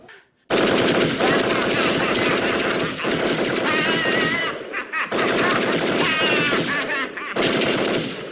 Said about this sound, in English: So the mass shooters use guns that go like this.